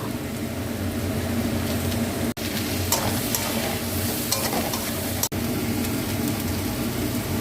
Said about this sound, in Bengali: এবার দিলাম হলুদ, এবার দিলাম ধনে গুঁড়ো, এটা জিরে গুঁড়ো, গুঁড়ো, এটা হচ্ছে লঙ্কা গুঁড়ো।